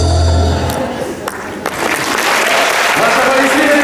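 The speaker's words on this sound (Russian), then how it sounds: "Ваши аплодисменты, дорогие друзья" Applause from an audience, steady clapping that swells and continues throughout, with some voices mixed in.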